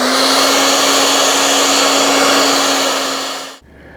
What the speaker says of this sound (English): I'm a man who blow dries his hair from time to time.